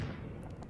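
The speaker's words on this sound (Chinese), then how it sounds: "这是那个爆炸" A video game explosion lands as a short, dull low boom with a rumbling tail, moderately loud, with no voices over it.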